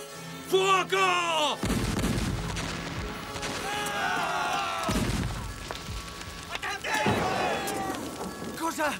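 Cannon fire aboard a pirate ship in an Italian dramatic scene, heavy booming blasts and crashing impacts amid shouting voices and bursts of commotion.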